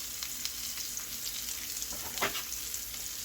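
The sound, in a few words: pork chops searing in a pan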